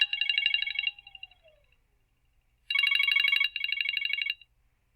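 A telephone rings loudly in two bursts of rapid electronic trilling, one short ring at the start and a longer double ring after a pause.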